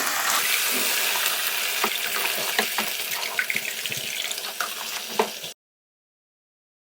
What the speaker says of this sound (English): You can add approximately around 2 to 3 cups of water and cook it.